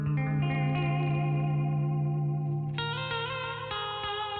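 A sustained, buzzy tone run through a distortion and chorus effect, droning steadily with layered harmonics before shifting to a brighter, higher chord partway through.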